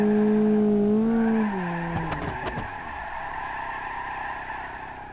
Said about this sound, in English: Doing a bit of a drift here.